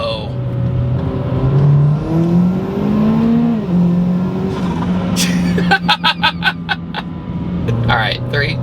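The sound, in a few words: 300HP Buick Encore engine revving while downshifting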